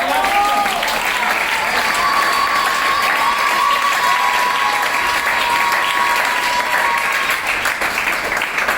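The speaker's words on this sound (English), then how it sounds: "Clapping." A large audience at a school education event claps steadily and loudly for the whole stretch, dense applause with some cheering mixed in and a faint hum running underneath.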